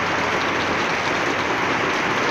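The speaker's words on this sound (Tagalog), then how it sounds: "sa lakas ng ulan, ha." Typhoon Ulysses rain falls hard and constant in Pasig, a thick continuous hiss and patter close by, loud and even throughout with nothing else over it.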